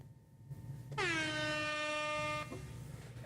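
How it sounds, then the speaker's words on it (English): A single loud, sustained air horn blast sounds for about a second and a half, rich and brassy, then cuts off. "Did the whole air horn work, or was the air horn all muddled and muffled"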